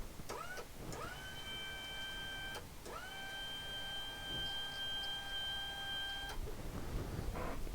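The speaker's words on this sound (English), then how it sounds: "We've got a working motor." Electric motor of an OKIN reclining power chair running in steady whining bursts, each rising quickly to a level hum, with clicks as it starts and stops; no talking.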